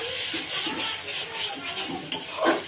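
Masala sautéed with turmeric and chili powder sizzles steadily in a pan while a spoon scrapes and stirs in quick strokes, close, with speech over it.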